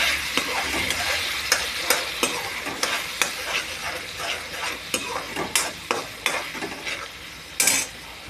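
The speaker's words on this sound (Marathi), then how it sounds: "आता आपलं कांद्याची पेस्ट चांगली परतून झालेली।" Onion paste frying in oil for pav bhaji, a constant close sizzle broken by regular sharp scrapes and taps of a spoon stirring against the pan, with no voices.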